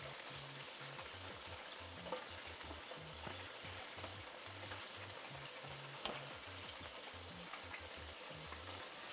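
Fried chicken sizzling in a deep fryer, a steady dense crackle of hot oil with small bubbling pops, continuous and fairly faint throughout, with low rhythmic tones underneath.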